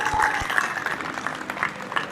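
Brief applause from society members at a residents' meeting, a dense patter of many hands clapping at moderate distance in an indoor hall, lasting only a couple of seconds.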